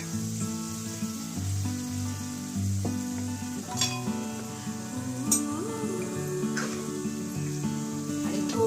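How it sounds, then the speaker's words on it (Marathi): Continuous frying sizzle as a little water is added to prawn masala, with stirring and a few sharp pan clinks, while some tonal background sound plays steadily underneath. "मी थोडंसंच पाणी टाकलं"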